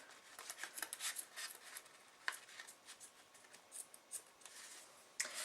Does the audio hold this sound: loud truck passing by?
no